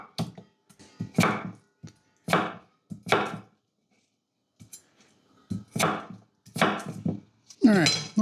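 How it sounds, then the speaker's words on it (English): A knife chops peeled potatoes into half-inch cubes on a board, with about eight separate bursts of sharp, close cutting strokes broken by short pauses. "Then we're going to chop these into 1/2 inch cubes."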